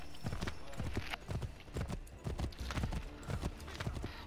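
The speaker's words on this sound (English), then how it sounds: "Riding a horse, can't touch the ground." Rapid rhythmic hoofbeats of a galloping horse in the video game Assassin's Creed III, steady and close, pounding on without pause; no one speaks.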